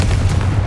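A Confringo explosion spell goes off in Hogwarts Legacy as a single heavy, booming blast with a low rumbling body, loud and close, sustained briefly with no voice over it.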